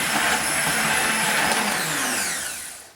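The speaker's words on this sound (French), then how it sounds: "mixer mon sirop" A blender whirs loudly and steadily as it purées strawberries with syrup for a strawberry cake, its motor pitch sliding down and fading as it winds off near the end.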